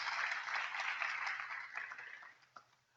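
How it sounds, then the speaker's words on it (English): An audience at the Optimist International Oratorical World Championships finals applauds in a soft, steady wash of clapping that gradually thins and fades out. "let's give them all a round of applause"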